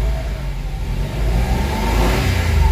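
A Mitsubishi Mirage with automatic transmission revs its engine loudly and steadily, the pitch swelling and climbing near the end, heard up close with no talking.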